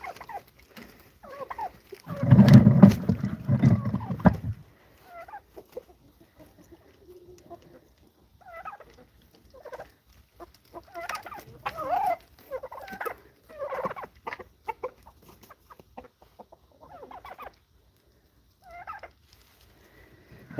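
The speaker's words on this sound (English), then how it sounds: "that's turkeys eating dog food" Turkeys gobble while eating dog food, with one loud, rattling gobble burst near the start followed by scattered softer clucks and short calls at varying distances.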